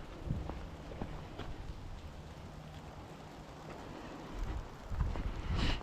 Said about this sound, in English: You should be able to hear it raining